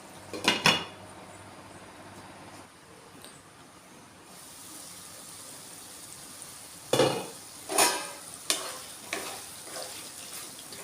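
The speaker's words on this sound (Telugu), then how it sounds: "ఇలా మధ్యలో కలుపుకొని మూత పెట్టుకోవాలి." Spinach and potato cooking in oil in a pan, stirred with a ladle: sharp scraping clinks at the start, then a quiet low sizzle, followed by several louder stirring scrapes in the last few seconds.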